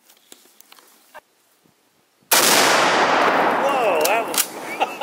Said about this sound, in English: This is a Mosin Nagat, and I'm shooting 1 pound of tannerite.